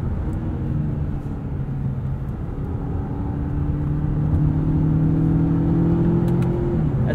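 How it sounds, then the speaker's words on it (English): A 2020 Mazda 6 Signature turbocharged four-cylinder with a six-speed automatic pulls hard on a backroad, its engine note rising in pitch as it accelerates and shifting, heard from inside the car with no talking. "Get a good amount of power from this turbocharged engine"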